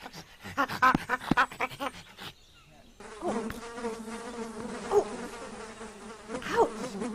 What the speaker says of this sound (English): the mosquitoes in the jungle are pesky!